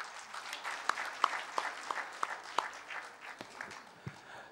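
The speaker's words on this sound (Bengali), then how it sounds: "একটা হাততালি দেবেন।" An audience at the closing session of a citizens' conference on SDG implementation in Bangladesh gives brief, moderate applause, with scattered hand claps sounding at fairly even intervals over a few seconds in a hall.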